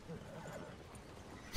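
A horse in Red Dead Redemption 2 gives a short neigh amid faint hoof clopping, a brief close sound ending in a sudden burst of noise.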